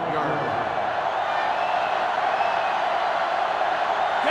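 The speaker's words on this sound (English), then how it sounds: "This sellout crowd is really making a difference now as these guys can't even call the play." Steady crowd roar from a sellout stadium in the video game NCAA Football 2005, during the Texas A&M Aggies vs Texas rivalry game, a dense continuous din with no breaks across the moment.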